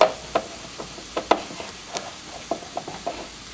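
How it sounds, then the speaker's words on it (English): Beans sauté in a pot for red lentil soup, with light intermittent clacks of stirring over a faint, soft sizzle at close range. "Saute the beans in there just a little bit with it."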